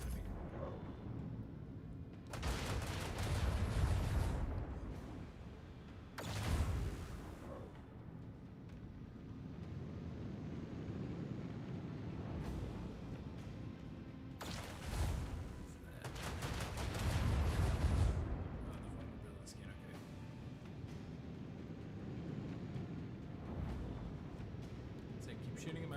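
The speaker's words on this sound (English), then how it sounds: "Shooting at my ship." Spaceship battle gunfire in the Warhammer 40,000 Rogue Trader game: several long, roaring barrages of booming fire swell and fade over a rumbling background, with quieter gaps between volleys.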